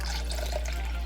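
About one and a half cups of water being poured into a stir-fry sauce mixture with sesame oil for shrimp and broccoli, a brief, soft, steady liquid splash heard alone.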